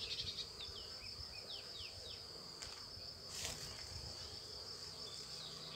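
Honey bees drone at a beehive with a quiet, continuous hum, as individual bees buzz briefly past up close.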